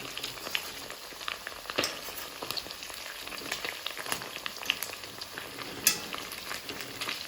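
Chicken pieces deep-frying in hot oil for Manjali biryani, a steady close sizzle with scattered crackles and pops over several seconds, no voices.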